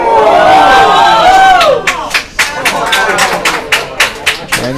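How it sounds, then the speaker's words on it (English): A crowd at a Canadian mixed curling championship arena cheers loudly with shouting voices, then breaks into scattered, rhythmic clapping and thumps that continue in bursts. "And you hear the applause in the background"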